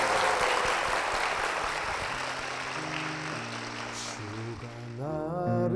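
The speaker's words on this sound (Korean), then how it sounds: "두 분께 축복의 박수" A church congregation claps in broad, steady applause that slowly thins out as sustained organ or keyboard tones rise and a melody starts near the end.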